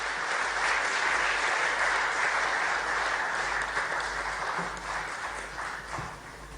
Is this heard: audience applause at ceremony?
yes